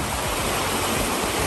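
Water rushes continuously in a salmon creek, a loud, steady broadband wash with no breaks.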